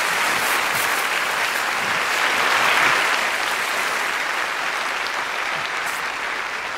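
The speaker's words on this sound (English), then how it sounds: "Round of applause for Emma." A theatre audience at a Derren Brown stage show applauds a volunteer named Emma, a dense, steady wash of many hands clapping that holds evenly throughout with no voices over it.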